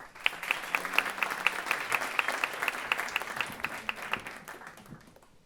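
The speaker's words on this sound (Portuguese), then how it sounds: "Javiera, uma salva de palmas." A small crowd applauds steadily at close range at a choro music school, with fairly even clapping that fades slightly toward the end.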